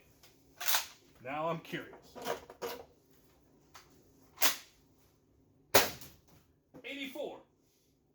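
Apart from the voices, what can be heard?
gunshots firing rounds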